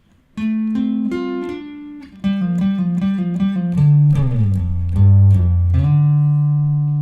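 A clean electric guitar plays a short melodic phrase of plucked single notes with slides, rising then settling into a sustained low note, alone and close.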